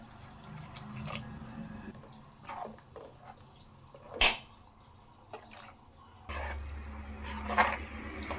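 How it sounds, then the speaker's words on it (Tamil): Water is poured into a ground paste for tomato kurma, starting with faint drips and splashes, then turning into a steady, low, gurgling pour for the last couple of seconds. The sound is quiet and near. "தண்ணி ஊற்றுறேன்."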